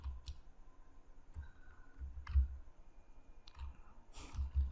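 Sparse keystrokes on a computer keyboard while a server command is entered, a handful of crisp, separate clicks at uneven intervals, close and quiet against a faint background hum.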